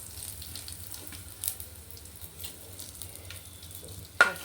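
Mustard seeds and dried red chillies fry in oil, giving a faint, quiet sizzle with a few soft crackles and a sharp pop near the end, with no talk.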